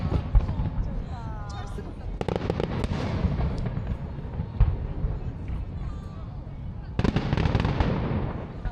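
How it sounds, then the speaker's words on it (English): Fireworks show at night heard outdoors: repeated sharp bangs and crackling pops at irregular intervals, some near and loud, over constant background noise with people talking. "We're getting our own like private fireworks show."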